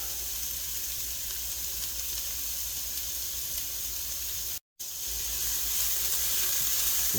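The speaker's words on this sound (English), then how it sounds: "We'll slowly saute them until transparent and softened." Onions and garlic sautéing slowly in a pan for a tourtière meat pie filling, giving a continuous even hiss and sizzle that drops out briefly near the end.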